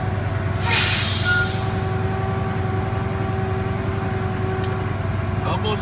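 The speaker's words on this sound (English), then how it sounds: "I'm gonna rev it no more than 1500 RPMs" A truck engine revs to build air brake pressure: a steady low diesel drone with a sustained whine, a brief hiss of air near the start, constant and close throughout.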